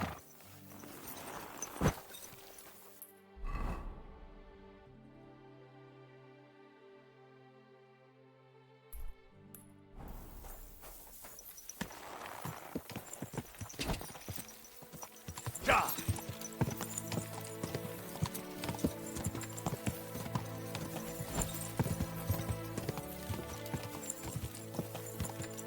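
Horse hooves clip-clopping in the video game Kingdom Come Deliverance 2: a steady, brisk run of hoofbeats dominates, starting after a short quiet musical passage, with game music and occasional talk in the background.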